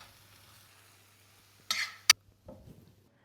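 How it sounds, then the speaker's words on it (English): Vegetables and rice with sriracha and a sweet Indonesian-style sauce hit a hot pan in a quick stir fry. A sharp sizzling burst and a brief utensil clatter rise out of near silence, then a softer scrape follows. "Super quick and speedy stir fry"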